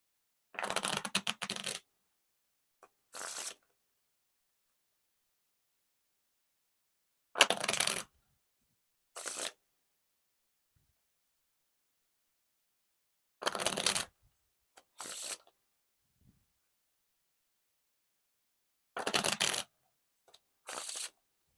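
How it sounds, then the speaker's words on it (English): Bicycle Webbed playing cards are riffle shuffled in about five separate bursts, each a quick crisp ripple of flicking cards followed by a short bridge patter, with silence between. "Now for the riffle shuffle or bridge shuffle."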